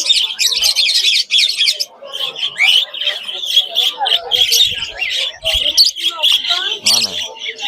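A dense mix of chirps, tweets and squawks from many caged birds at an outdoor bird market in Andijan, loud and close, with people talking among the calls.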